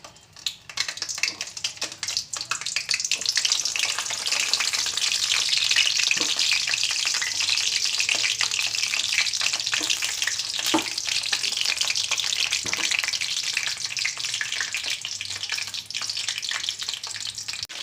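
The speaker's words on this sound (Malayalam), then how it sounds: "ഇനി നമുക്ക് ഈ വഴുതനങ്ങ ഓരോന്നും ആ എണ്ണയിലേക്ക് ഇട്ട് നമുക്കതൊന്ന് വഴറ്റിയെടുക്കാം" Brinjal pieces fry in hot oil in a pan for a curry, giving a steady, close, broad sizzle that holds throughout with a few faint clinks and stirs, and no talking.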